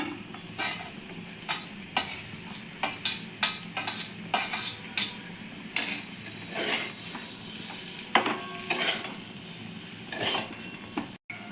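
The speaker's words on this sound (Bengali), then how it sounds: "ভালো করে কপিটা দিয়ে নাড়াচাড়া করে নিয়েছি" Fried cauliflower and potato pieces are stirred in a pan with a utensil, giving repeated scraping clinks and soft sizzling bursts at an uneven rhythm over a low, steady fry, close and moderately loud, with no talking.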